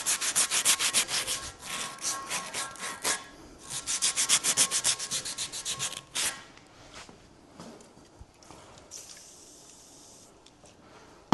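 Hand sanding with roughly 750-grit abrasive during work on a Land Rover Defender makes quick rhythmic rubbing strokes, loud and close for several seconds, then quieter scattered scrapes and faint rubbing.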